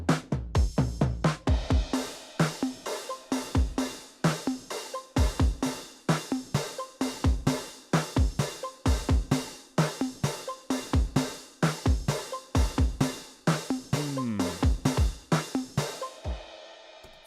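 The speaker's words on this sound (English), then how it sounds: "started with the drums, just giving them that halftime feel" A slow, heavy drum groove with a half-time feel, kick and snare hits spaced steadily and washy open hi-hats sizzling between them.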